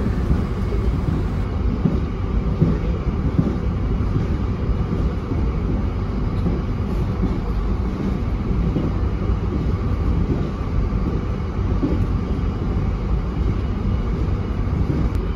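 Steady rumbling roar of the Logawa economy-class passenger train in Indonesia running at about 115 km/h, heard from inside with continuous rail and wind noise and no voices.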